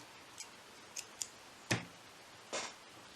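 Scissors snipping off excess crochet yarn from an amigurumi Christmas ornament: a handful of short, crisp snips spaced apart, quiet and close, with no talking.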